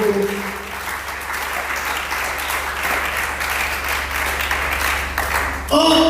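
A church congregation applauds in a continuous wash of clapping that holds steady for several seconds, with a voice breaking in at the very end.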